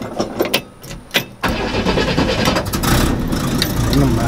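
A car's engine cranks a few times with uneven bursts, then catches at about 1.5 seconds and keeps running loud and steady close by. The car was just fuelled by pumping gas.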